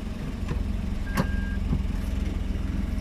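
A Perodua Axia automatic backs up during ramp practice while its engine idles with a steady low hum, and a single sharp beep stands out over the running motor.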